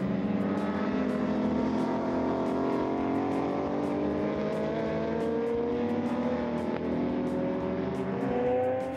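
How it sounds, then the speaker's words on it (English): A pack of race cars on a racing circuit, Toyota Corolla and Porsche among them, engines droning loud and steady with layered rising pitches as several cars pass together, no voices. "Down the hill to turn 14 come a gaggle of cars."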